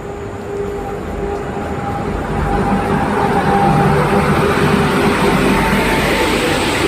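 Rumble and steady roar inside a moving train travelling from Durgapur to NJP, a continuous broadband drone that grows slightly louder midway, with a faint tonal whine running through it.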